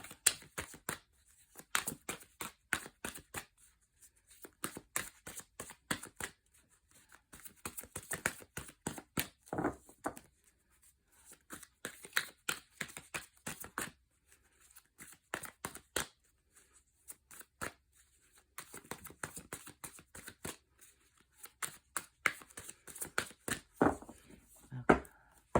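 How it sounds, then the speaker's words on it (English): Rapid bursts of crisp, close clicking and fluttering as a deck of tarot cards is riffled and shuffled, repeating in several rounds with short pauses between. "Let's shuffle them again and see what we get here."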